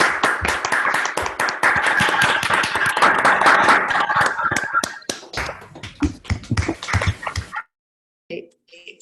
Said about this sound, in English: I'm going to unmute everyone so that we can clap for Joost-Pieter.